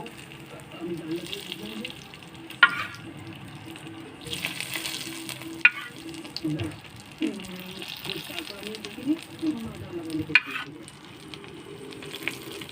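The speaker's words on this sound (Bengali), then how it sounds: "এটা দেখো না কেরম ফসফস করতেছে এটা হলো সিজলিং এর আসল রেসিপি" Hilsa fish sizzling in a frying pan, with a steady crackling hiss, occasional clinks and scrapes of stirring, and a person talking over it.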